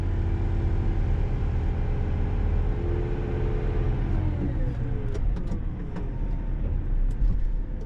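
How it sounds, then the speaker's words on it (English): A Volvo dump truck's engine revs steadily as the bed is raised, a loud, continuous rumble that builds slightly over several seconds with no talk. "he'll go ahead, raise the bed up, give it a little bit of gas"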